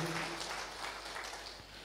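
A church congregation at a Sunday worship service in Jakarta applauds with a sustained, dense patter of many hands, steady and fairly distant, slowly easing off toward the end.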